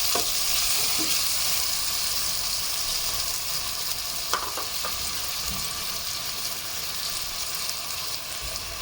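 Chopped tomato sizzles and fries with cumin in a pan while being stirred. A steady, close hiss runs throughout, with a few sharper scraping clicks from the stirring and no talking.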